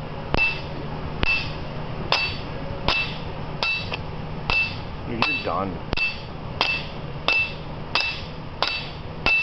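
A hammer taps a metal part while a Torsen T2 differential is installed, about a dozen evenly spaced ringing strikes that sound solid and close as the part nears the bottom, with a brief spoken remark in between.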